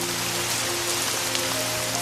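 Heavy rain pours during a storm as a dense, unbroken roar of drops on surfaces, loud and steady throughout with no voices.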